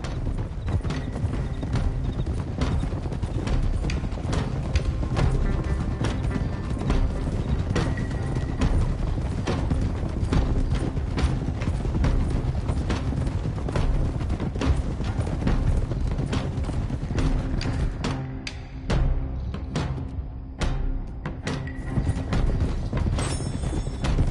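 Horses trot steadily under riders in Red Dead Redemption, with a continuous, close clip-clop of many hooves overlapping in a busy rhythm throughout, plus faint tack rattle and an occasional whinny.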